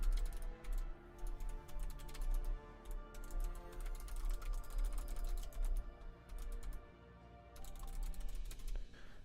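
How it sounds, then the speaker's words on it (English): Rapid typing on a hybrid computer keyboard, a steady stream of close, light key clicks with brief pauses and no voices. "Gotta say, I do love this keyboard."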